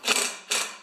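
Two short ratcheting bursts close by as a wrench loosens a bolt on a John Deere TRS 24 snowblower auger assembly, each burst a quick mechanical clatter.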